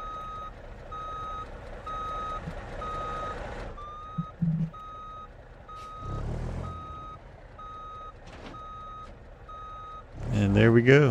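In the BeamNG.drive game, a truck hooking up trailers emits steady, evenly spaced reversing beeps under a low engine idle, with a few thumps and a clank near the end, while a person talks over it.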